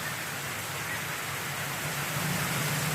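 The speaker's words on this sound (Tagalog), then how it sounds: "sa malakas ang ulan" Heavy rain pours steadily during an approaching typhoon, a dense, even hiss of drops with no pauses, loud and close, with no voices.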